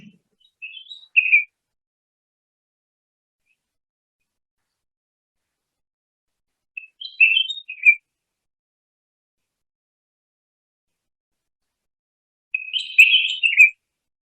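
Three short bursts of sweet, high bird chirping, spaced several seconds apart against near silence, the last burst a bit fuller and louder.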